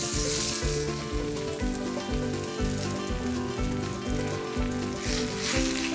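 Mushrooms fry in a little oil in a hot pan, giving a loud, steady, crackling sizzle close up with a repeating low rhythmic knock from the stovetop or pan underneath throughout.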